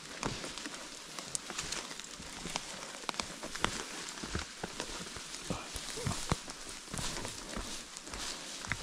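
Rain falls on a mountain trail on Mount Lawu, giving a faint, steady patter with scattered sharper ticks and drips close by, and no voices.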